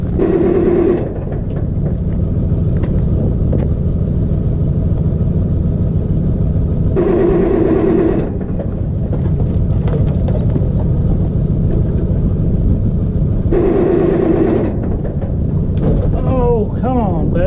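A fuel-powered pump engine, freshly refuelled, runs with a steady, loud low rumble, joined at intervals by a higher whining drone that starts and stops.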